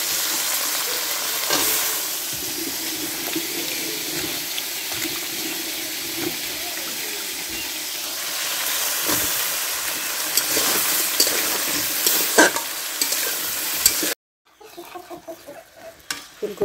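Spices sizzle and fry in a pan on a stove, then cauliflower and radish go in and get stirred, a steady loud hiss with scraping stir strokes, cutting off abruptly near the end to quieter scattered knocks.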